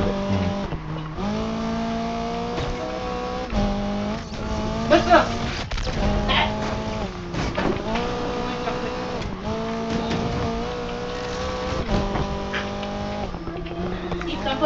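A McLaren 600LT races in the video game NFS Unbound, its engine droning loudly and shifting pitch throughout with brief tire-skid bursts, while someone talks over it the whole time.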